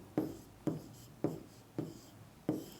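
Pen or chalk writing out a maths definition in a lesson, five distinct evenly spaced strokes, each a quick scratch that fades, fairly close and quiet with no talking.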